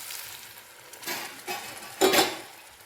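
Cooked whole masoor lentils are tipped into hot frying masala, giving a few close sizzling bursts with a loud hiss near the end, alone without talk.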